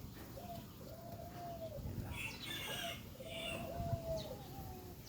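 Chickens, including a young hen, cluck and coo nearby at a backyard coop where hens are brooding eggs, with repeated short calls over steady low outdoor background noise.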